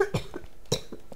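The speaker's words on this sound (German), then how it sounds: "Na, hast du ein bisschen Husten?" A couple of short, sharp coughs during a German Minecraft playthrough, two separate bursts about half a second apart, close and clear with no talking.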